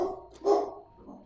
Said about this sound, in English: That's the dog, by the way.